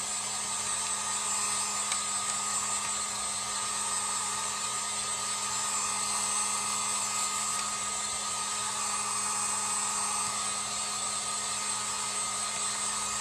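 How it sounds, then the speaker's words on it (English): A heat gun blows continuously at close range while drying a damp Mod Podge craft piece, a loud steady whine and rushing airflow that holds evenly throughout. "heat gun, and I'm going to dry this a little bit"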